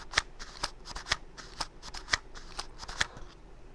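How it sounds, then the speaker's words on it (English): Loose glass rattles inside a dropped camera lens filter, a series of sharp, close clicks and ticks coming in irregular bursts about every half second, each one quick and bright, with nothing else sounding between them. "Oh, it's the glass in the filter because I dropped it so many times."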